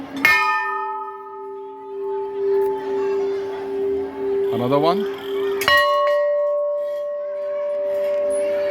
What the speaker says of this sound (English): I'll try to chime these bells.